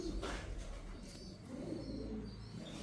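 Pigeons at a breeder's loft coo softly and repeatedly in low, throaty calls, with faint background noise and no talking.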